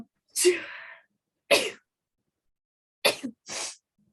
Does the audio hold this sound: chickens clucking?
no